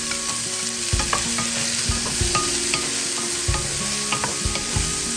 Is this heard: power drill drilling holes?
no